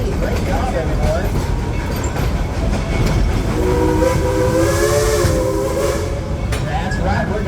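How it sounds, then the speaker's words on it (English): Dollywood's Engine 70 steam train rolling along with steady rumble and clatter of the cars, a multi-tone steam whistle sounding in the middle, with crowd chatter throughout. "That's right, we're going on a train ride."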